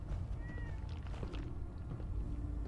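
A single faint cat meow rises briefly in Fallout 4, a short thin cry under a low, busy background rumble with soft scuffing.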